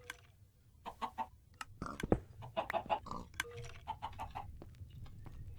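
Minecraft chicken clucking in bursts of short clucks, mixed with a person talking over the game sounds.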